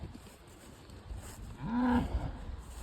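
A calf moos once, a single clear bellow near the middle, rising then falling, over a quiet farm background where cows are being moved during corn straw baling.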